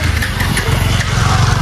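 A motorcycle engine runs loudly and close just after starting, a rough pulsing low rumble throughout the short moment, with no talking.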